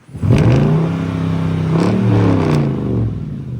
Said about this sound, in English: That exhaust just still sounds so good